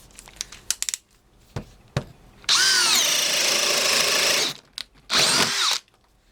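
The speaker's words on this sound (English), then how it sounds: "Now I'll do the drill with the 1-inch Daredevil." A cordless drill driver spins a 1-inch Daredevil spade bit through wood in two loud, close bursts of whining motor and chewing, with clicks and handling knocks between.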